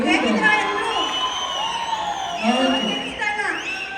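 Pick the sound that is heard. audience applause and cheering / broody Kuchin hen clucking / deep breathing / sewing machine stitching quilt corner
audience applause and cheering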